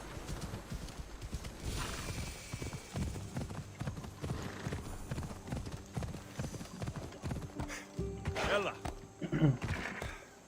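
Horse hooves clip-clop steadily on the ground in Assassin's Creed Odyssey, a close rhythmic trot with a brief whinny near the end and faint game ambience underneath.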